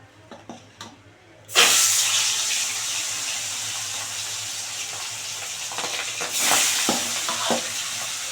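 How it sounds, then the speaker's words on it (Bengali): Pangas fish pieces drop into hot white oil two at a time, bursting into a loud, steady sizzle after a short quiet start, with a second surge of spitting crackle near the end. "তেল গরম হয়ে গেছে দু পিস দু পিস করে মাল ভেজে যাবো"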